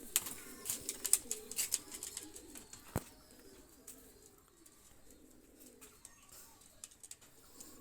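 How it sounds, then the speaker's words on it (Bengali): A released pair of running red-neck pigeons coos softly in low, murmuring bursts, fairly faint and distant, with light chirps and one sharp knock partway through. "এই এক পেয়ার রানিং গলা লাল কবুতর নিয়ে আসলাম"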